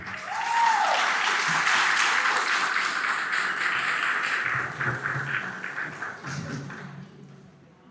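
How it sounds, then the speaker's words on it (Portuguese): Audience at a talk applauding to welcome a society president, a sustained wash of clapping that tapers off near the end, with a brief high tone at the close. "Por favor, uma salva de palmas"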